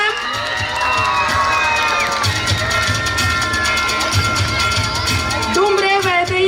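An audience at an annual school prize distribution ceremony cheers loudly and continuously for prize-winning children, a dense roar of shouting and whoops with some higher children's voices, close and unbroken.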